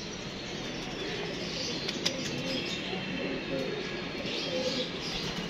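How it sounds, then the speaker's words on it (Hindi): A flock of large pigeons settles down together, with soft fluttering wingbeats and faint coos over a steady outdoor hum and distant voices, one sharper flap standing out midway. "बड़े कबूतर उतरे"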